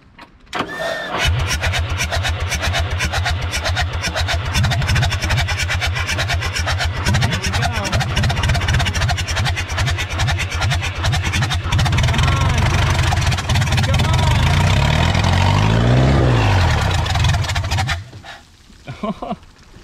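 The diesel engine of a Komatsu D31S track loader, sitting unused for over ten years, cranks briefly, then catches and runs at a loud, steady, rough idle for most of the time before cutting off near the end.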